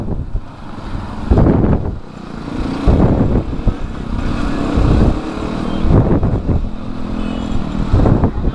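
Motorcycles riding in a group along Hasilpur Road in Pakistan on a winter ride, a steady engine drone with wind buffeting the microphone and periodic surges as bikes pass or throttle up.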